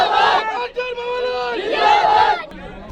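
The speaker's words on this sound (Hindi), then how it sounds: "वंदे मातरम के नारे देखिए।" Crowd outside a municipal council office on election day chanting Vande Mataram slogans, loud rhythmic shouted voices in unison rising and falling in repeated phrases, close and energetic.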